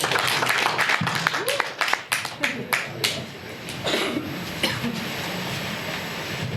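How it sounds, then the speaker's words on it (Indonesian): Scattered clapping from a church congregation at a Sunday service, a series of distinct claps that thin into a rustling murmur, with voices underneath. "beri tepuk tangan saudara"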